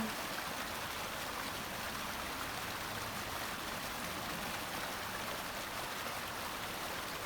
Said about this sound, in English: I'm now overlooking sort of that stream into the gardens.